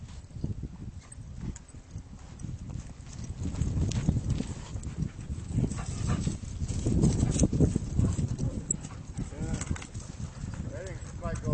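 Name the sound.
horse hooves clip-clopping while circling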